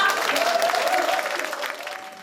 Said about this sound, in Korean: 토론회를 큰 박수와 함께 시작하겠습니다